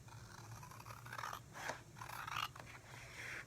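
Scissors snip through a stencil for a DIY tea towel project: several close, crisp cutting strokes in quick succession, quiet and alone.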